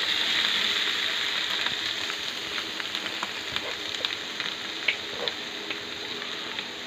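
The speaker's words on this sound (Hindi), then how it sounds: "अब इसमें दाल को फ्राई कर लेते हैं।" Lentils (dal) frying in a pan with ginger paste, a steady close sizzle and crackle throughout, with occasional light scrapes and taps of a stirring spoon.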